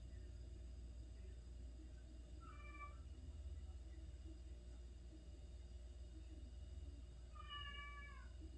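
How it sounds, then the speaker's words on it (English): A pet cat whines with two drawn-out meows, one short and one longer near the end, faint and somewhat distant over a steady background hum, no speech. "And my cat is so whiny. Meow."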